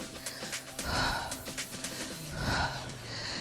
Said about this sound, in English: Sorry if I'm breathing heavy